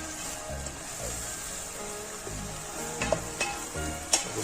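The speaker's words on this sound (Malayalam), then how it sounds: "നമുക്ക് ഇടയ്ക്കൊന്ന് നല്ലതുപോലെ ഒന്നുകൂടെ ഇളക്കി കൊടുക്കാം" Payar mezhukkupuratti, a Kerala stir-fry of long beans, sizzles steadily in a hot pan while a spoon scrapes and stirs it in bursts, with a few sharp clinks against the pan near the end.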